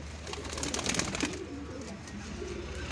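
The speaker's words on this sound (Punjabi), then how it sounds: "ਇਹ ਦੇਖੋ ਜਿਸ ਤਰ੍ਹਾਂ ਕਬੂਤਰ ਬੈਠਾ ਹੈ" Pigeons coo softly and steadily in a breeder's loft, a low murmuring background with some faint rustling and no clear speech.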